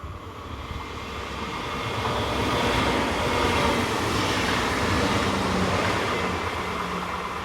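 Two coupled Class 425 electric units, 425108 and 095, pass through a German station heading south toward Koblenz, a steady broadband rumble that swells and holds at moderate level with a faint tonal whine, no voices.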